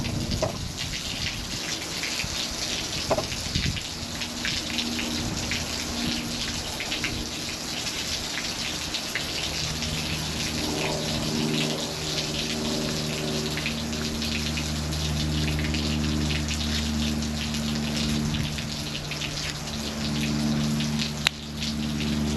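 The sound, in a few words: water gushing out while replacing water heater rod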